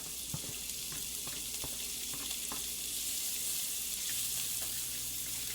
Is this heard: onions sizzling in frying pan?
yes